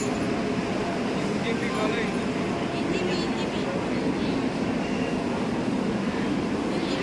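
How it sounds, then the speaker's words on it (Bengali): A train rumbles at New Jalpaiguri railway station, a steady broad roar of rolling wheels and noise filling the whole stretch, with a voice speaking over it. "আমরা চলে এসেছি আমাদের স্টেশনে"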